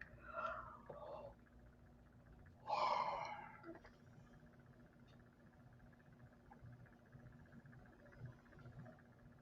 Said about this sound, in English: I can't stop yawning.